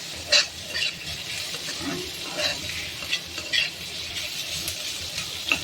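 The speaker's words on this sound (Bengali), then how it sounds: "পনিরটা পেঁয়াজের সঙ্গে নেড়ে চেড়ে মিশিয়ে নেব।" Paneer stirred with fried onions in a pan, the spatula scraping and clinking steadily over a continuous sizzle. The sound is close and fairly loud.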